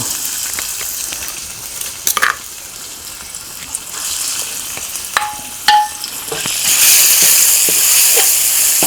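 Chillies and garlic being stir-fried for Thai basil chicken with glass noodles: a close, steady sizzle with sharp clanks of a spatula against the pan, swelling into a louder hiss near the end.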